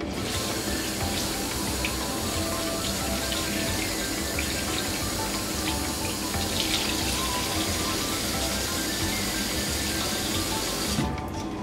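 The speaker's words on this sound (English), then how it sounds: "I like to fill it with water and then squeeze" Steady running water fills a sink while makeup brushes are rinsed and squeezed, a continuous broad splashing rush that stops abruptly at the end, with no voices.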